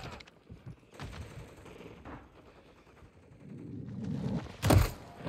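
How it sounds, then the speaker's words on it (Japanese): Shotgun fire in the Call of Duty: Modern Warfare III video game: one loud, punchy blast near the end, after scattered softer game noises and rumble. "ショットガン。"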